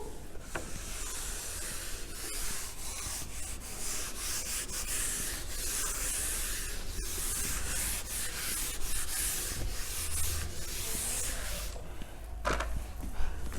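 An eraser or duster rubs across a classroom board in continuous scratchy strokes with a steady hissing texture, close and fairly loud, ending in a few sharper knocks.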